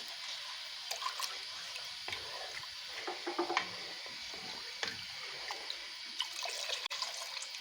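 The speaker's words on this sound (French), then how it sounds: "Je vais juste rincer l'ustensile et puis remettre un peu dedans." Running water splashes and trickles while a cooking utensil is rinsed during preparation of cocobaka, a spiced porridge, with faint clinks and drips scattered through a quiet kitchen.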